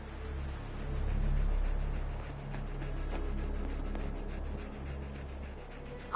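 The dog companion Dogmeat pants steadily in the video game Fallout 4, a close, rhythmic panting over a soft game background, with no talk.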